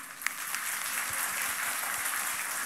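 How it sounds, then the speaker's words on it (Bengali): A crowd claps in steady, dense applause at a franchise meeting at Dhaka Boat Club. It is fairly close and continuous, with a few sharper individual claps standing out. "এটা হাতে তালি।"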